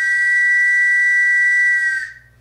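A loud, sustained whistle holds one steady shrill pitch for about two seconds before cutting off, a human imitation of the departure whistle of the old Santos trams.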